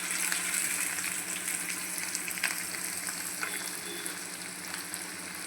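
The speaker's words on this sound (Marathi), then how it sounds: "त्यातच आपल्याला कांदा घालायचा।" Onions and curry leaves frying in hot oil for Maharashtrian baingan bharta, a close, steady sizzle and crackle that runs throughout with a few faint clinks and no voices.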